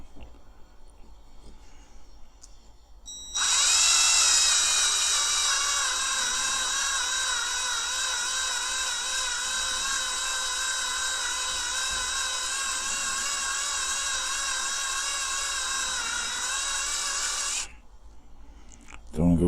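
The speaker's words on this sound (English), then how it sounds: "That's the beauty of this drill, you can go really slow and there's a lovely bit of torque on it." Power drill run slowly with strong torque, drilling out a rivet on a restored Corgi 219 Plymouth Sports Suburban toy car; a steady, close whine lasting about fourteen seconds, starting and stopping abruptly.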